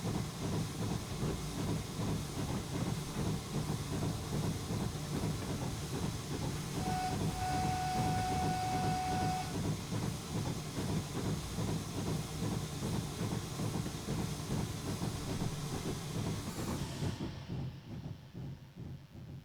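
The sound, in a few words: train running on Falmouth route, Train Simulator video game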